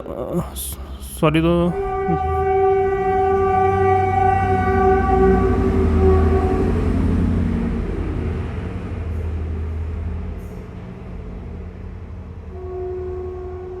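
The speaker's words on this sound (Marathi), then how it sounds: "माझ्या रूमच्या इथून ट्रेन जाते. ते या टायमिंगला ट्रेनचा टाईम आहे 5 वाजता, तर त्याचा आवाज येतो आहे थोडा" A train passes near a room, its horn blaring a long sustained tone over the heavy rolling rumble of the cars. The horn sounds again faintly as the train recedes.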